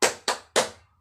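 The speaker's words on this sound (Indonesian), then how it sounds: "Kalau kau cinta Nabi, tepuk tangan." Three sharp, evenly spaced hand claps ring out up close, marking the beat of a children's religious song, with nothing else sounding between them.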